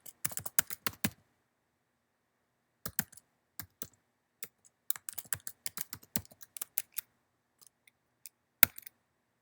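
Bursts of rapid keystrokes tapped out on a computer keyboard while entering a password, close and crisp, with short pauses between runs and a few isolated clicks at the end.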